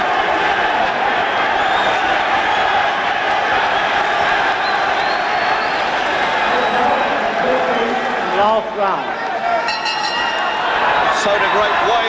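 A boxing crowd applauds at a middleweight bout between Alan Minter and Kevin Finnegan, producing a steady, dense wash of clapping and crowd noise throughout, with a commentator talking over it.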